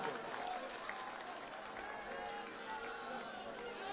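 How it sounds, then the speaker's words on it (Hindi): A crowd claps together at an outdoor gathering during a Hindu padyatra pilgrimage walk, producing a dense, steady wash of applause that holds at an even level throughout with no gaps. "जोरदार ताली बजा करके साधुवाद दो"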